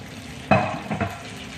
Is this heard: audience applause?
no